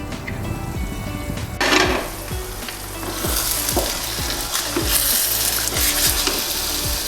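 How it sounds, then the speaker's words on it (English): A coconut rice mixture for nasi lemak boils in a pot, giving a loud, continuous bubbling sizzle broken by scraping and clinking from a stirring spoon. "So it has been boiling for some time already, about 10 minutes."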